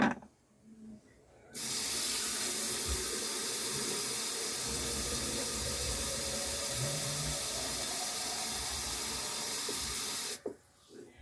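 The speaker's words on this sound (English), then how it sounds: "I'm going to go ahead and add the chicken broth." Chicken broth pours into a soup pot of cooked onions and water, a steady hissing, splashing stream lasting several seconds before stopping abruptly.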